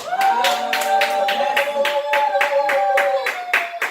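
A church congregation claps in a strong, regular rhythm during a Sunday worship service, the beats falling evenly about three times a second while a sustained musical tone or hum rings underneath.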